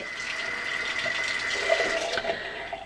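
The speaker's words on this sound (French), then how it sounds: "il va falloir mettre dans un verre d'eau bouillante pendant 3 minutes" Hot water splashes and trickles steadily as a tube goes into a glass of boiling water, a close, continuous liquid sound with a faint ringing tone and small bubbling bursts near the end.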